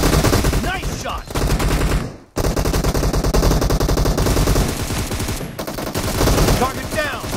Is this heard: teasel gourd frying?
no